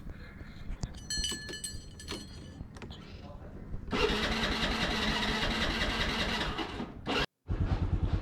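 A motor scooter on a busy Nepal street is kick-started by foot, its engine catching around midway and then running with a steady mid-pitched putter, loud and close, with a brief dropout near the end amid traffic noise.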